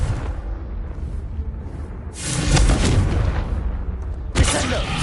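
Confringo blasting spell in Hogwarts Legacy, a rumbling explosion swelling midway, followed by a second sharp boom with crackling debris, loud and close.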